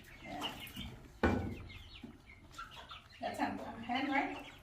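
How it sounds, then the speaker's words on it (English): Backyard chickens, roosters and hens including a naked-neck hen, cluck and call nearby in short bursts, with people talking quietly over them. "I think the black ones are roosters."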